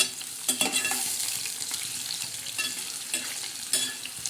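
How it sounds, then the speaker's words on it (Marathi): Onions and tomatoes sautéing in a kadai, a steady close sizzle with repeated scraping stirs of a spoon against the pan, heard alone without speech. "टमाटे मस्त असे छान तांबाटे असे परतून घ्यायचे"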